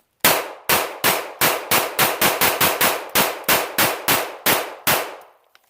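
A Remington RP9 pistol fired in a fast string of about fifteen sharp, loud shots, each ringing with a metallic tail and evenly spaced, ending in silence.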